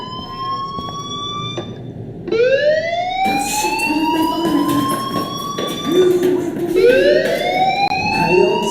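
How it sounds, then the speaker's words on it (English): A school fire alarm in the video game Life is Strange wails loudly in repeated rising siren sweeps that overlap, with a sharp buzzing tone running beneath. "do you hear that fire alarm? That means you should be outside."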